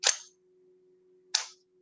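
A camera shutter set to a slow speed of about one second fires: the mirror flaps up with a sharp mechanical clack, a quiet pause follows, then a second clack closes the exposure. Both sounds are close and clear, with no talk.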